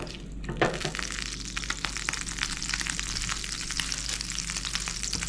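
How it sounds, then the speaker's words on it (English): Butter sizzles and crackles in a hot pan while making Thanksgiving stuffing: a steady, dense frying hiss with small pops, close and alone, with no talking. "my butter's sizzling"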